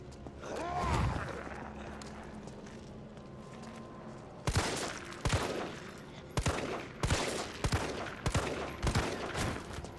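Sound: gunshots in video game Resident Evil 3 remake

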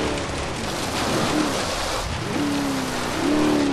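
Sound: light rain in video game Forza Horizon 3

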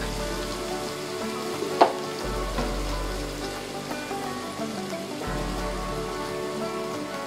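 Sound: frying ginger garlic paste in a pan

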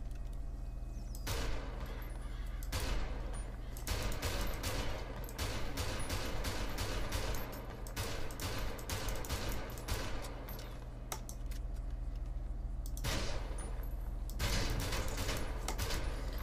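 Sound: combat pistol gunshots in the video game FiveM

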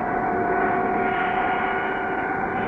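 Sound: airplane engine struggling to climb, cartoon sound effect

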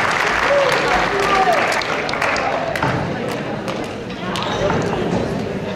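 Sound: audience applause at student awards

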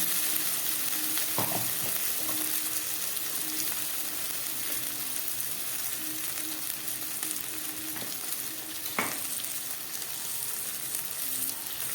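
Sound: spice paste of ginger, garlic, onion, chili frying in pan

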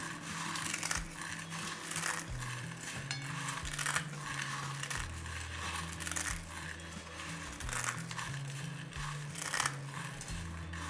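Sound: crushing corn poha chivda by hand

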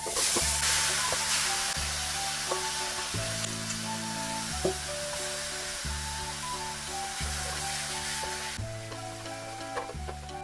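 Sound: marinated beef bulgogi frying in a hot oiled pan

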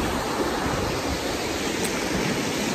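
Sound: river water flowing

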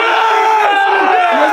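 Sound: group of guys cheering

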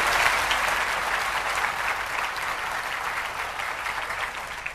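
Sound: church congregation applauding

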